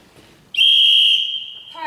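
A whistle blown on stage during an eighth-grade school production of The Sound of Music gives one loud, steady shrill blast lasting over a second, then fades as a voice begins.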